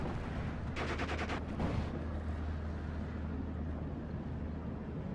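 A Pak-43 anti-tank gun firing HE rounds in a World War II strategy video game, a burst of rapid loud blasts and impacts followed by a heavy rumbling boom that fades into steady low battle noise.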